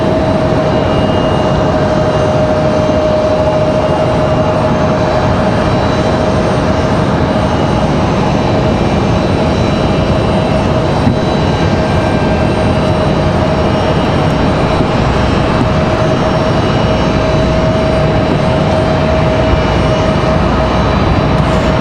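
An Airbus A321 arriving at Raleigh-Durham International Airport makes a loud, continuous engine roar with a steady whine running through it, holding level for the full stretch with no voices.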